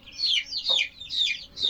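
Chickens in their sleeping place at an African village home give soft, repeated clucks and warbling calls that rise and fall in three or four close phrases.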